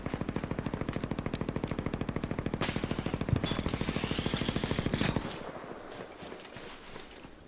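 Rapid automatic gunfire in the video game ARC Raiders, a fast steady stream of shots for about five seconds that cuts off abruptly, leaving quieter rumbling ambience.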